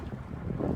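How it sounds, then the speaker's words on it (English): Steady wind buffets a sailboat out on the water on a fine day, a continuous low rushing roar with microphone wind noise that swells slightly toward the end. "we've got some good sailing wind"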